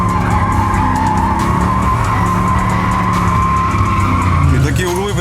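A Chevrolet Tahoe SUV drifts sideways with its tyres skidding and squealing steadily, the engine roaring loud and close under constant noise throughout.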